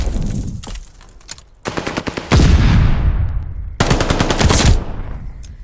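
Video-game gunfire around a hardpoint: loud machine-gun bursts and rapid automatic shots in several long volleys with short gaps, close and dominant.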